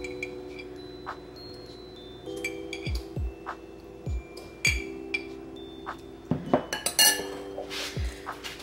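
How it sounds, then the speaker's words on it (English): A fork clinks and taps against a dish while mashing hard-boiled egg yolks, giving scattered sharp metallic knocks and scrapes at close range, irregular and quiet between hits. "You want to take a fork and smash your yolks."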